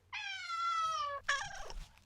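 Kittens meow up close, one long, clear, drawn-out cry followed by a shorter, broken meow, loud against a quiet background with no speech.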